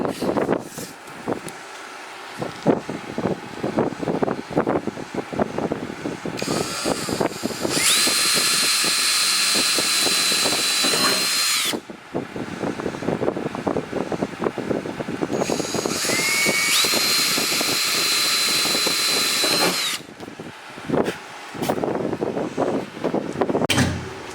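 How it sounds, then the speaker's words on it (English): A power drill whines loudly in two long bursts, each several seconds, drilling through metal under a car trunk during a wing install, with clattering handling and rustling noises in between. "I'm drilling through the hole into the second piece of metal underneath the trunk"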